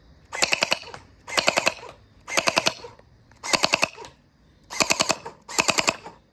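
A Nerf Gel Fire Nightfall toy blaster fires six quick bursts of several rapid shots each, loud and close, spaced by short pauses with no talk.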